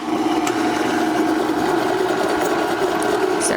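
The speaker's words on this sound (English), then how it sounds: "we'll turn our mixer on a medium setting" A stand mixer runs steadily at medium speed while shredding zucchini, giving a continuous, even motor whine and hum with no pauses and no voices, close and fairly loud.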